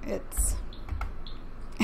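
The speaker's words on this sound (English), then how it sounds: "it takes me a second to do the keyboard keys" Keys clacking on a computer keyboard in a quick, uneven burst of clicks, fairly close, with a person talking softly underneath.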